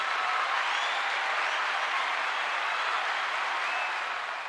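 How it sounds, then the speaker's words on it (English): Steady applause from an audience fills the whole stretch, a dense, even wash of clapping at moderate volume with no voices over it. "Round of applause for you there."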